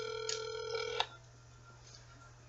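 A telephone rings with a bright, multi-tone electronic trill, one short burst that stops abruptly about a second in and leaves a faint hum. The sound is quiet and somewhat distant.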